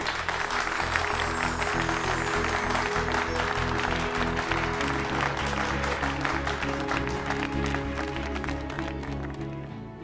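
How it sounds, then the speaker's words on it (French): Party guests applaud a couple at an elder's ceremony, a steady round of clapping lasting about ten seconds over a bed of music, tapering slightly toward the end. "Applaudissons-les."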